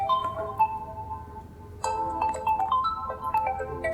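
A melodic electronic phone ringtone plays a repeating chime pattern, moderately loud, over a low background hum with no talking.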